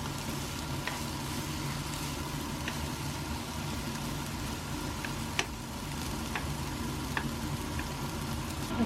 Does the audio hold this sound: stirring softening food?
yes